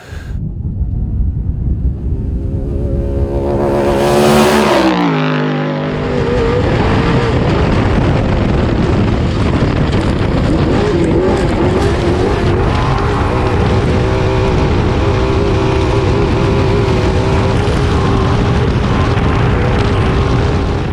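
A loud off-road race truck engine roars steadily, its pitch climbing through gear changes early on before settling into a sustained drone with wind rush.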